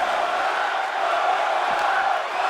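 A crowd in a wrestling arena cheers and roars in WWE 2K25, a steady wash of noise with no clear peaks, and commentary talk sits faintly underneath.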